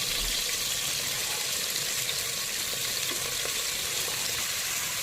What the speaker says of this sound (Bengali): আলু পেঁয়াজ দিয়ে আমি একসাথে আজকে এটা ভেজে নেবো